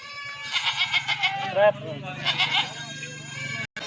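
Goats bleat repeatedly at a livestock sale pen, wavering calls close to the microphone, with someone talking over them throughout.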